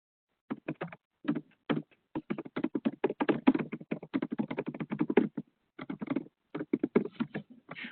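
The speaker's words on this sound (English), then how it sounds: "We all hear the typing." Typing on a computer keyboard at a general meeting, quick clusters of close, crisp key taps with short pauses between bursts, steady and alone without talk.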